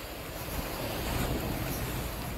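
Strong wind buffets the microphone beside a moored boat at the shore, and ocean waves wash through in a constant rushing roar without breaks.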